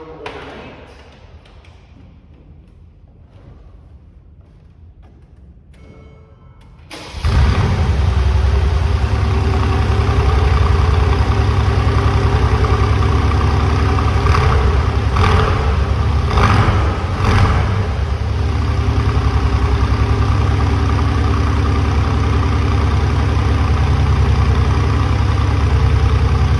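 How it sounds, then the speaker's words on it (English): A 2017 Mercedes G550 4x4 Squared V8 with an Akrapovic exhaust cranks and catches on a cold start after a quiet stretch, then settles into a steady, loud, rumbling idle that continues throughout. "This is a cold start video of our 2017 G550 4x4 squared."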